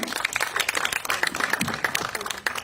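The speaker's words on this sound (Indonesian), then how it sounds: "boleh kita berikan tepuk tangan" Applause from the audience at an Indonesian film press conference, a dense patter of clapping filling the room at steady loudness, with faint voices mixed in.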